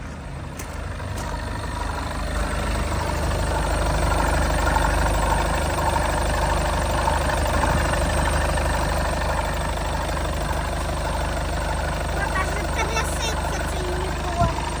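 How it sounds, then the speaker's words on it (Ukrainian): A Volkswagen Passat B8 R-Line engine idles with a steady low rumble and slight knock, with the check engine light on, running continuously and close, with faint voices in the background. "А ну як мотор працює, давай послухаємо."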